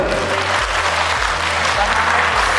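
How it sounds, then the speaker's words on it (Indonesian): Loud, close applause from an audience at a religious family gathering, dense continuous clapping throughout with a low rhythmic thumping underneath. "Tepuk tangan boleh."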